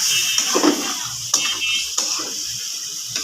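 Curry being stir-fried in a pan, a steady sizzle with scraping and clattering of a spatula against the metal at irregular moments.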